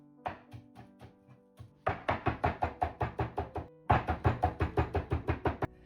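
A knife chops parsley on a board in quick rhythmic runs of sharp knocks, a few slower cuts first, then two fast bursts of even, close chopping.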